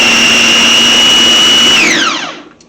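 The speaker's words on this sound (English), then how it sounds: "I gave them a quick blitz in the food processor" A food processor blitzes cooked strawberries with a loud, steady high whine that holds evenly, then spins down and fades to silence at the end.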